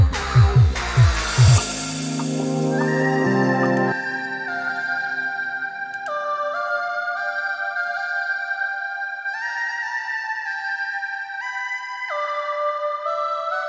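A sustained synth lead melody with lush chorus and long reverb tails, stepping between held notes after a brief busier opening, fairly loud and alone.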